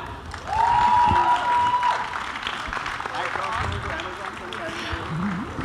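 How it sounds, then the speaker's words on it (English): Audience applause and cheering at a web show promotion event, a broad crowd clapping with a raised voice or whistle rising early on, then the applause continuing at a steady level. "Let's hear a huge round of applause for them."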